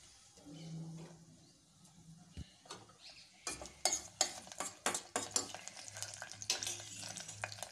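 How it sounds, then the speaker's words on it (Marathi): Mustard seeds and curry leaves hitting hot oil for a tempering, a quiet start that breaks into close, crackling sizzle and popping with scattered sharp spits and bursts continuing to the end, with no talking. "आणि यामध्ये टाकूया थोडीशी मोहरी, कढीपत्ता"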